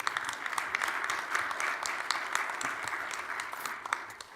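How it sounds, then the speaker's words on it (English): Steady audience applause for event sponsors at a government commissioner's opening remarks, a dense wash of many hands clapping that holds fairly even for several seconds with no speech over it. "So let's give them a round of applause."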